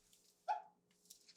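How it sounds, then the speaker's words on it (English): A sleeping dog whimpering and giving a soft bark during a dream, one brief whine-bark burst in the middle of a very quiet room, with faint noises around it. "he's whimpering in the back and barking"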